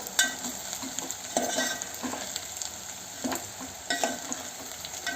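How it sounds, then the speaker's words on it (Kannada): Avarekayi uppittu frying and being stirred in a pan: a steady sizzle with repeated scraping stirs at an irregular rhythm, close and moderately loud, with no talking. "ನೀಟಾಗಿ ಫ್ರೈ ಆಗ್ತೈತೆ, ಗಮ್ಮಂತ ವಾಸನೆ ಬರ್ತಾ ಇದೆ."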